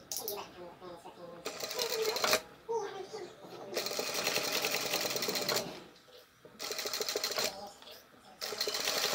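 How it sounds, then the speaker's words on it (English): A sewing machine top stitches Converse shoe panels along the seam allowance, running in several loud, close bursts separated by short pauses, with a voice talking during the gaps. "Now we need to take this over to the machine and top stitch using our seam allowance"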